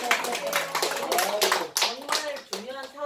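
An audience at a 2019 town meeting with the mayor of Naju in Namyeong claps for the mayor, with brisk, uneven clapping that runs under a speaking voice throughout.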